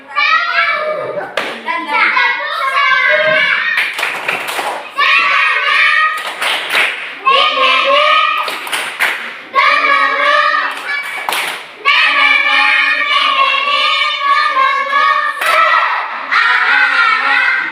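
Children chant and clap a rhythmic spirit cheer in a classroom, sharp hand claps punctuating bursts of young voices in a patterned call, loud and close, repeating several times.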